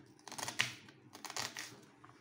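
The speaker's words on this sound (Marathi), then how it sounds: "कांदा कापून घेऊ चांगला बारीक।" A knife finely chopping onion on a board for methi paratha, giving two short bursts of quick, crisp cuts, close and fairly quiet, with no talking.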